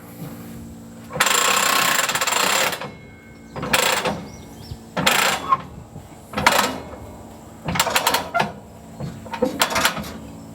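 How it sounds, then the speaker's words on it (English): Rail car handbrake wheel being cranked tight by hand, a series of separate metallic ratcheting and grinding bursts, one long then several shorter, close and fairly loud with quiet gaps between. "That's how you put a handbrake on a rail car."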